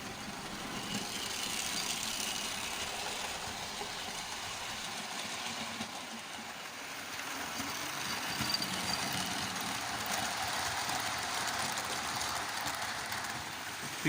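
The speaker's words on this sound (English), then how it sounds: "Because these have metal wheels, these teak coaches, they make a lovely noise." A vintage model railway train pulling teak coaches on metal wheels runs steadily with a faint, continuous rolling rumble and rail clatter, soft and nearby, with no voices.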